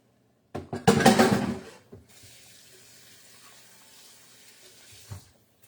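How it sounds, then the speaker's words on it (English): A kitchen tap gushes loudly as hands are rinsed during soup preparation, then the water is cut to a faint trickle that ends with a brief splash. "I'm going to rinse my hands again"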